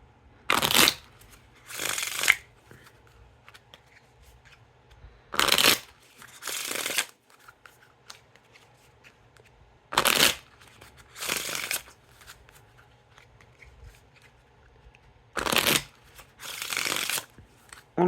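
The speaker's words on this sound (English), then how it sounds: "And now time for the Riffle Shuffle or Bridge Shuffle." City of Mirrors playing cards riffle-shuffled in sharp bursts, six quick ripples in three pairs with quiet gaps between, close and crisp.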